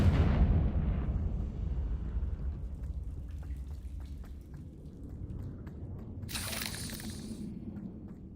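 A Confringo fire spell explodes in the video game Hogwarts Legacy, opening with a loud booming blast that rumbles and fades into crackling debris, followed by a brighter burst of hissing fizz a few seconds later.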